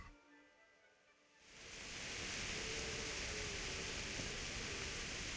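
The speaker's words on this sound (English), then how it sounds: "the rain is actually heavier now" Heavy rain in Kingdom Come: Deliverance swells in after a quieter moment, then settles into a dense, steady hiss that fills the scene.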